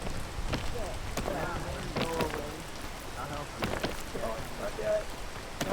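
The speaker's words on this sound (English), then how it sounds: "It's raining." Rain falls steadily in the video game PEAK, a constant close patter under a voice talking throughout.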